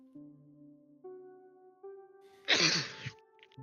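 A single sharp, explosive sneeze bursts out after some sustained tonal sound, followed by a brief trailing breathy noise.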